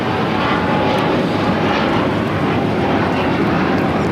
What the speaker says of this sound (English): This is Air Canada Express, flight 575 taking off to Vancouver on the CRJ 900LR.